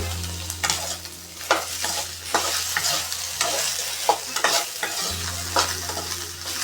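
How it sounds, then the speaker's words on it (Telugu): Okra masala curry fries over a full gas flame, a continuous close sizzle broken by scraping stirs of a spoon in the pan, under a low steady hum, with no talk. "బాగా ఫ్రై చేసుకుంటే బెండకాయ మసాలా కర్రీ టేస్ట్గా బాగుంటుంది"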